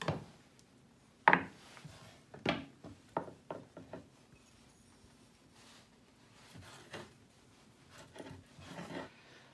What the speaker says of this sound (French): je vais d'abord ciseler l'aneth